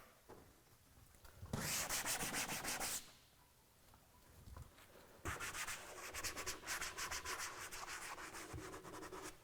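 A hand scrubs the exterior of a car during a hand wash. Two separate bursts of brisk, rough rubbing are separated by a short pause, close by and faint.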